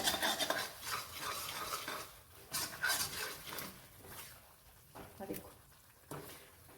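A ladle stirs semolina halwa in a ghee-coated kadhai, giving repeated scraping and clinking strokes against the metal pan at close range, with pauses between strokes.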